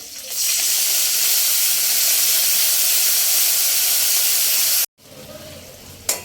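Green chilli, curry leaves and black mustard seeds hit with a splash of water in a hot tempering pan, a loud sustained steamy hiss that cuts off abruptly, followed by a brief clatter.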